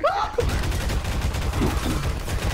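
Turret fire in Half-Life 2 Synergy co-op hammers in a continuous rapid stream of close, loud shots, with a brief voice at the very start.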